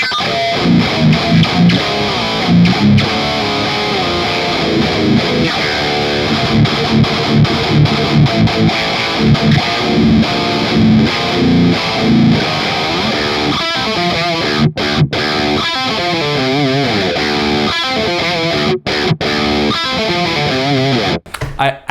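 Electric guitar played through a Kemper Profiler on a Fireball 100 amp profile, a thick distorted tone in a continuous stretch of riffs and sustained chords, loud and close.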